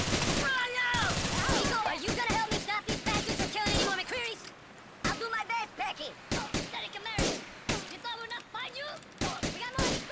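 Rapid gunfire in GTA IV, loud bursts of automatic shots and single cracks in irregular clusters with short gaps, while voices talk over parts of it.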